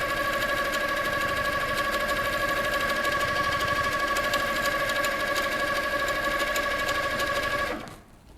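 A Handi Quilter Sweet Sixteen quilting machine stitches steadily with a loud, even mechanical hum and rapid needle rhythm, running alone for about eight seconds before stopping abruptly.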